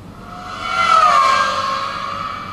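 A Ferrari engine roar plays through the small speakers of an Acer Ferrari One laptop, rising to a revving whine peak midway and then trailing off, thin and tinny.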